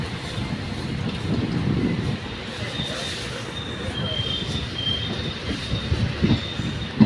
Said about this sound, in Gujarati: આપણે ટ્રેન નીકળી ગયો લાઠી સ્ટેશનથી